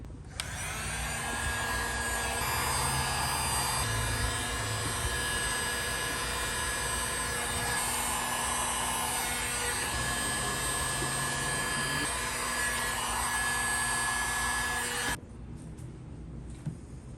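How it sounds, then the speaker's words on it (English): Heat gun blowing on vinyl wrap over the roof of a 2017 Ford Explorer, a steady hot-air whir with a constant tone for about fifteen seconds, then cutting off abruptly, leaving quiet room noise. "I'm gonna go ahead and grab the heat gun. We'll start hitting with heat."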